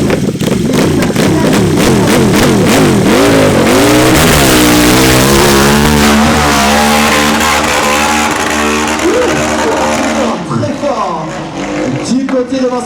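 A loud motorcycle engine revs hard and climbs in pitch, shifting through gears up a steep slope at the Arette Hill Climb 2019 competition, with a commentator talking excitedly over it throughout.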